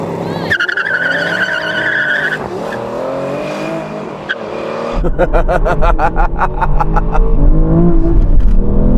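Aston Martin V12 cars, from Vantage to Valkyrie, in a drag race: loud engines idle and rev before a hard launch into a roaring, rising acceleration with tire squeal, close and dominant.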